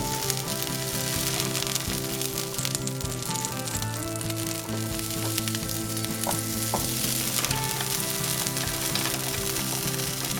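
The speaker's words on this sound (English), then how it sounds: "And now we put our fries on." Fries sizzling and frying vigorously in an uneven pan for a tortilla-based recipe, a dense steady crackle with occasional louder pops and scraping stirs, no voices.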